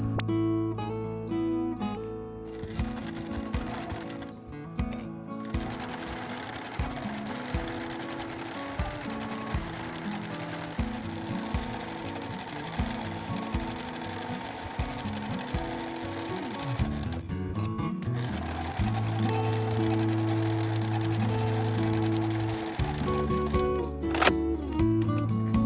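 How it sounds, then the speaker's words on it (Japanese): A sewing machine stitching fabric seams for a tote bag, with fast rhythmic mechanical clatter in bursts separated by brief pauses and shifts in speed, close and moderately loud, no talking. "上下を縫い代1センチで縫います。"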